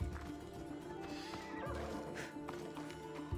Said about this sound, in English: they give us a horse.